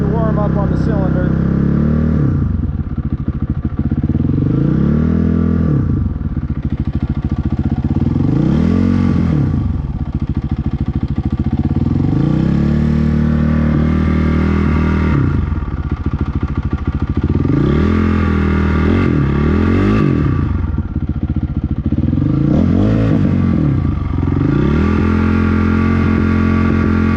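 Honda CRF450R dirt bike engine running as it warms up, a loud, steady close-range thump with repeated revs rising and falling throughout.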